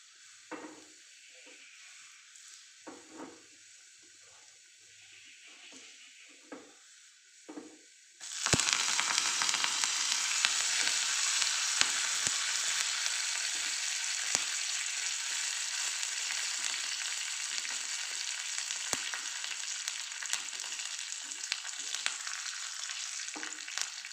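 Sliced onions drop into hot oil with garlic and curry leaves, turning a quiet start into a sudden, loud, continuous sizzle that holds steady up close, broken now and then by small crackles.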